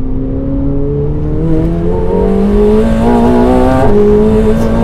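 A McLaren 750S accelerates out of a corner on a winding road, its engine note climbing steadily and loudly up through the revs with slight stutters as traction control cuts in, then a brief shift near the end.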